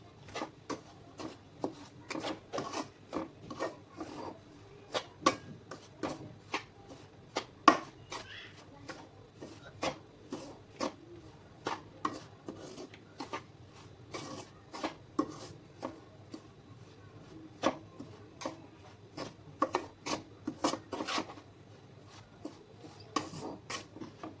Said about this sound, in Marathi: आता हे खमंग रवा भाजून घ्यायचा आहे आधी